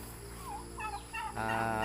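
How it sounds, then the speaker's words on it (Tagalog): A domestic turkey gobbles in a short warbling burst, close and fairly clear over a steady background hum. "Ganyan po pala ang isang ugali ng isang pabo."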